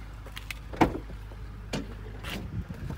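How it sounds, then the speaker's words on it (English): The rear barn doors of a new Volkswagen Grand California camper van are opened at a van dealership, giving a sharp unlatching clunk followed by a few fainter knocks and rustles close by. "Just open up the rear barn doors."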